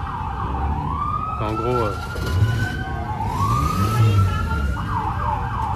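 A gendarmerie Alpine car at a classic car show in Bazas sounds its siren in rising and falling wails, loud and close, while someone talks over it and crowd noise fills the background.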